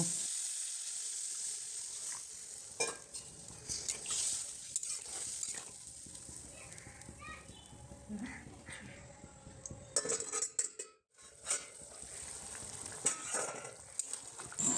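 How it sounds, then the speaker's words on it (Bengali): Katla fish curry with ridge gourd simmering in a pot, bubbling and sizzling steadily with occasional stirring and clinks of a utensil against the pan, close and fairly quiet, no talking. "দেখুন, আমার ঝোলটা ফুটে এসছে।"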